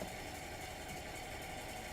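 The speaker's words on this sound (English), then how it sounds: "I'm walking by some traffic right now." Steady roar of passing road traffic heard from the roadside while walking, a continuous engine and tyre wash without pauses.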